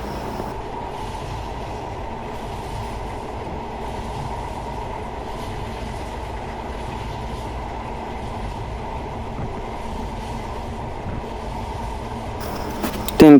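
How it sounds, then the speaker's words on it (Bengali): A train runs steadily near the Padma bridge, a continuous close rumble with faint rhythmic clatter of wheels throughout, ending in a brief louder knock. "ট্রেনটা এখন সেতুর নিচে ঢুকে যাবে"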